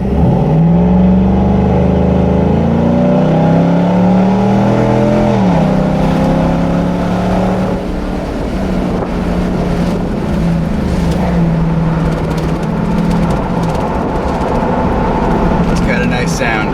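A 2019 Chevy Silverado fitted with an AFE cold air intake accelerates out of a slow turn, its engine note climbing in a loud, rising drone and then settling into a steady cruising rumble, heard from inside the cab.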